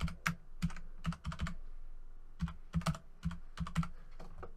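An email address typed on a computer keyboard: quiet, close key clicks in quick clusters with short pauses between bursts, no voices.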